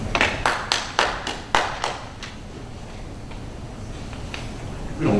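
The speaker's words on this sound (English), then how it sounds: "We don't clap, okay? We've heard enough clapping today." Audience members at a village council meeting clapping in a few short bursts of sharp, close hand claps over about two seconds, then fading into quiet room tone.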